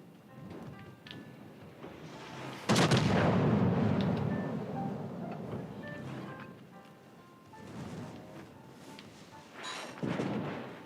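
Naval guns in World of Warships: Legends unleash a heavy booming salvo that rumbles and decays over several seconds, followed by softer distant shots and a second thump near the end.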